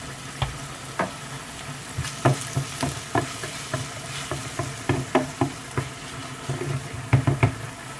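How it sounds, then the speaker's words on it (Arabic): Onion frying with salt in a pan: a steady sizzle under rhythmic scraping as it is stirred, close and moderately loud, with no talking. "ندير لها شويه ديال الملحه، ودابا غادي نخليها تشحر شويه حتى طيح"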